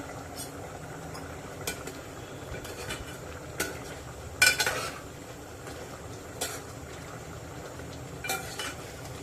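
A lid comes off a pot of simmering homemade curry with faint scattered metallic clinks and one louder clattering knock midway, over a low, steady background hiss.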